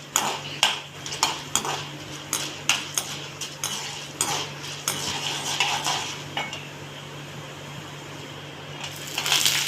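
A metal spoon clinks and scrapes around a pan as onions and garlic go into hot oil for a spicy chutney, with repeated sharp taps and a low background sizzle, close and steady, no speech.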